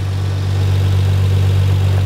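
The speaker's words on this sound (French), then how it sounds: "Voilà le moteur." A Toyota Supra engine converted from twin turbos to one large single turbo, reinforced and tuned to about 750 hp, idles with a steady low drone and strong constant hum, close and loud.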